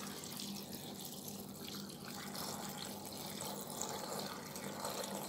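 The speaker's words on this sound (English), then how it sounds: "So I'm gonna fill up this pot with the sorrel with water." Water runs from a tap into a pot holding about a pound of sorrel, a continuous hissing splash that stays steady and fairly quiet for several seconds.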